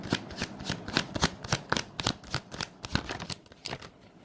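Tarot cards are shuffled in rapid riffling bursts, a close, steady rhythmic flutter of card edges heard on its own.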